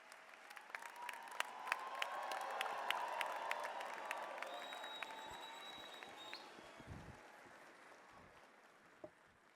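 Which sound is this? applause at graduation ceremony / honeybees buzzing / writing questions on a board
applause at graduation ceremony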